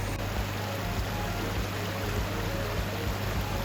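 Steady rushing river water, a dense even wash with a low rumble underneath, heard as a vehicle crosses a river crossing in the high country.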